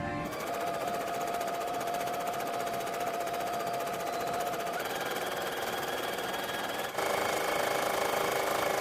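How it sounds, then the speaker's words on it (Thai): A sewing machine runs steadily stitching polyester batting, a continuous close mechanical whir and rattle that shifts pitch slightly partway through and grows a bit louder near the end, with no speech. "ตอนนี้เราเย็บ ใยโพลีเอสเตอร์นะคะ"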